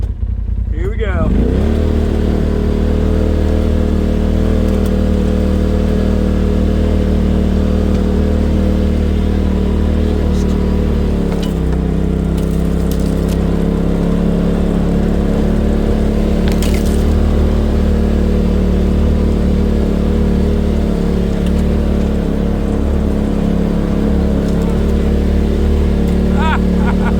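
A Polaris RZR side-by-side engine drones loud and steady while climbing a snowy hill, its pitch rising as it revs and holding at a continuous roar with brief shifts.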